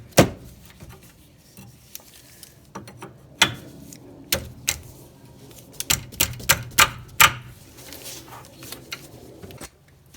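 A wrench knocks loose the outer tie rod end on a 2013 Hyundai Elantra's front suspension. Sharp, irregular metallic knocks and taps come close by, bunched toward the middle, with quieter clatter between the strikes.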